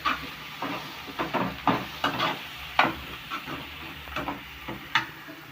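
Onions sauté in a pan for a dried prawn and tomato curry, a soft continuous sizzle broken by a series of sharp scraping stirs, close and irregular.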